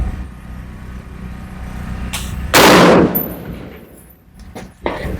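A single loud rifle shot cracks sharply over steady outdoor rumble at a 500-meter shooting range, its echo trailing off for a moment before a fainter thump of the target hit follows.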